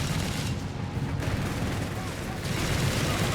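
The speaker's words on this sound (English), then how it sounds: "Almost got the machine gun here." Machine gun fire and explosions rumble through a busy Company of Heroes 3 battle between Wehrmacht and US/British forces, steady dense gunfire and booms running throughout at moderate loudness.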